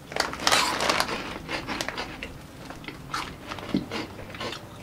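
Morrisons baked cheese ball snacks crunched and chewed close up, a dense run of crisp bites and crushing crunches spread over several seconds with no talking.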